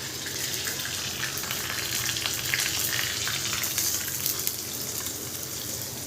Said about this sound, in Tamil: கடுகு, கருவேப்பிலை, வரமிளகா, கருவேப்பிலை போட்டு தாளித்து சட்னி ஊற்றிட்டு